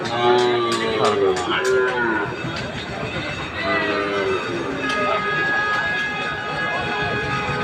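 A Sahiwal bull calf on a farm lowing several times in drawn-out moos, close and loud, against a busy background of voices and general commotion.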